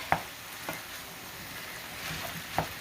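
Garlic and onion frying in a pan, a steady soft sizzle with a few sharp clicks of a utensil stirring against the pan.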